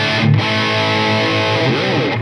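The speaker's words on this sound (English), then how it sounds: "Let's get some more tones. Let's go dirty, clean, and then some more dirt" A Kramer SM-1H electric guitar plays a dirty, heavily distorted tone, loud and sustained with thick, buzzing chords and a brief change in pitch near the end, with no one talking.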